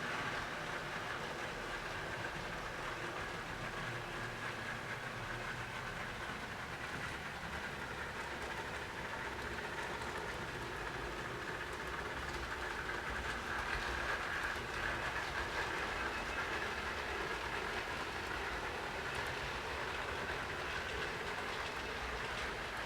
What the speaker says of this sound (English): as this CN grain train makes its way to the docks at Vancouver here